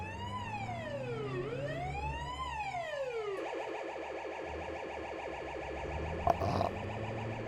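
Ambulance siren in the Cities Skylines city-building game, a wailing rising-and-falling tone that switches to a rapid yelp pattern, moderately quiet and steady, with a brief click near the end.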